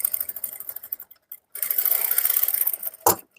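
Sewing machine stitching a cutwork blouse, a short run of rapid mechanical chatter, a pause, then a longer steady stitching burst ending in a sharp knock, close and clear with no talk.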